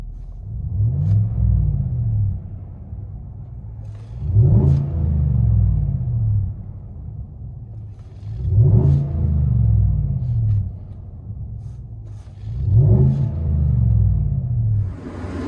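A 2017 GMC Sierra Z/71 with a 5.3L V8 and Proven Ground cat-back exhaust, heard from inside the cab on a freezing day, rumbles deeply at idle and swells in four evenly spaced revs that rise and fall.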